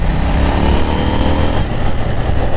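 A 2020 KTM 890 Duke R motorcycle engine drones loudly and steadily while the bike is being ridden, with a dense, continuous mechanical roar and no voices.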